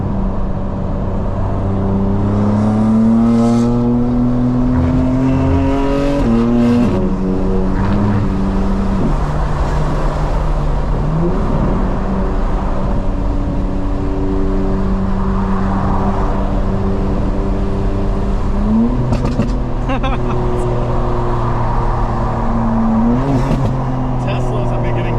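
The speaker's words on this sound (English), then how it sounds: "when you downshift, you actually slow the car down. You don't have to brake. Sounds good too." A 900 hp 2025 BMW M4 Competition xDrive drives close by, its engine note rising and dropping in steps with several downshift blips, under ongoing conversation inside the car.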